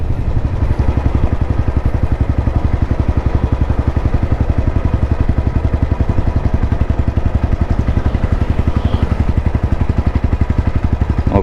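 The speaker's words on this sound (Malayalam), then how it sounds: "ടോപ്പ് ഗിയറിലാണ് വണ്ടി പോണത്." A torque-tuned Royal Enfield BS6 ES Bullet cruises in top gear below 35 km/h, its single-cylinder engine thumping in a loud, steady, even rhythm throughout.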